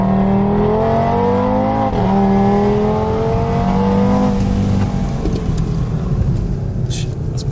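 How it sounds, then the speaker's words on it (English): A Golf R with a swapped-in five-cylinder engine accelerates hard on a race track, loud and close, its rising engine note climbing through gear changes before easing off near the end. "First drive in the Golf R on the track with the 5-cylinder."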